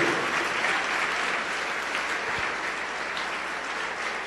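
A church congregation applauds in a steady, dense wash of clapping that holds throughout, loud and close, with no clear voices above it.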